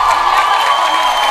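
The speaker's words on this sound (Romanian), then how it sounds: "Oamenii nu încetează să aplaude, să strige." A theatre audience in Buzău applauds and shouts in a loud, steady roar of clapping and cheering voices that carries without a break from start to finish.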